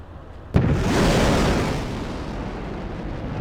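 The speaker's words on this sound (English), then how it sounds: "We're going to launch ourselves a ballistic missile to let them know that we're still here." A ballistic missile launches in the video game Broken Arrow with a sudden sharp crack, then a loud roaring rumble that swells and slowly fades while staying dense and near.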